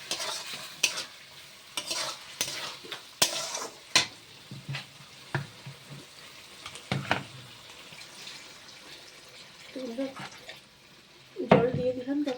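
A spoon stirs curry with fried potato and eggplant in a pan, scraping and knocking in uneven strokes over a soft sizzle, with a louder clatter near the end.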